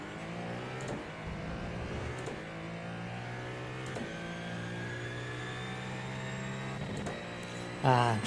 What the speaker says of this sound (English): I'm trying to get a bit of extra revs out of it, but hit the limiter